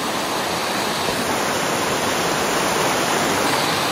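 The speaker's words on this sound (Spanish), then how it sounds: "Es el río." A river rushes by nearby, a loud, constant broadband roar of flowing water with no pauses or voices.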